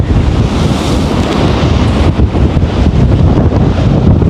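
Stormy sea waves crash and roar on the Point Pedro coast in Sri Lanka as a strong wind buffets the microphone, creating a loud, continuous, close-up rush of surf and gusts with no voices.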